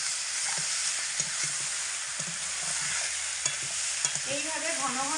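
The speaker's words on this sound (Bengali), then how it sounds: "এইভাবে ঘন ঘন নাড়াচাড়া করে রেসিপিটা আমি বানাবো" Boiled taro flower stems stirred with fried prawns in hot oil: a continuous hissing sizzle with frequent soft scrapes and knocks of the spatula against the pan.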